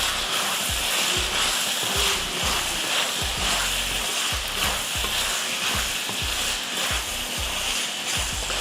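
A medium tomato and potatoes fry in a hot pan, a steady loud sizzle running throughout while a spoon stirs them in repeated rhythmic scrapes and knocks.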